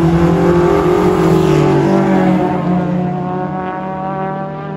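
A Vauxhall Cavalier GSi classic touring car accelerating hard at Goodwood Circuit, a loud rising engine howl with strong harmonic tones that holds steady and then eases slightly as the car pulls away.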